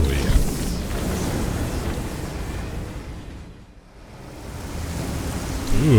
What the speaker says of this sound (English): Ooh, nice and stormy, too.